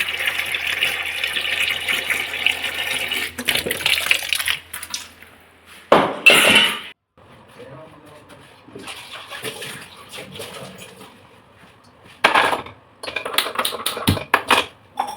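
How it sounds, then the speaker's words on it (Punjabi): Water running and splashing as vegetables are rinsed, with clattering of utensils and bursts of handling noise between quieter pauses. "ਆਪਾਂ ਫਟਾਫਟ ਸਬਜ਼ੀ ਨੂੰ ਧੋ ਦੇਾਂਗੇ"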